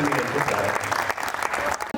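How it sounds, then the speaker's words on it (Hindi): An audience at a kavi sammelan poetry event claps loudly and steadily, a dense burst of applause filling the whole short stretch with a brief dip just before the end. "आप एक बार जोरदार तालियां बजा के इस करें।"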